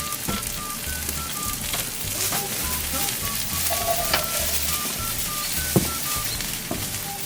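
Steady sizzling and bubbling of tteokbokki simmering in a pan with a little added water, a continuous crackly hiss with small pops throughout, close and fairly loud, outdoors at a campsite.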